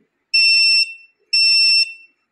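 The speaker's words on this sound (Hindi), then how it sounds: "और ये बीप करके ऑन हो चुका है।" SATA hard drive docking station and cloner beeping at power-on: two loud, identical half-second electronic beeps about a second apart, close and clear against silence.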